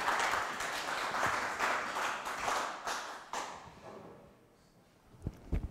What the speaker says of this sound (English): please give him a round of applause to welcome him